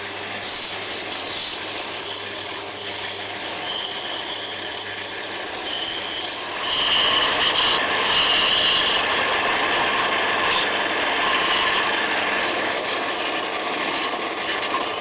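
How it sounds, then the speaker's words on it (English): A belt sander grinds and shapes PVC siyahs (limb tips) for a homemade horsebow, a steady abrasive rasping that swells louder about halfway through and runs on alone with no talking. "So with the belt sander, I've actually shaped the Siyahs."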